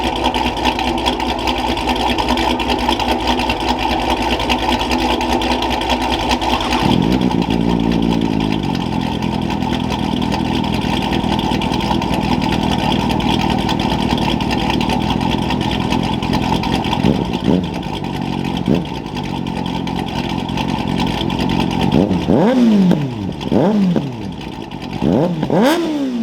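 A 2025 Kawasaki ZX6R with an M4 Street Slayer exhaust runs loud and steady close up, then gives a series of quick revs near the end, each a rising and falling engine whine with no talk.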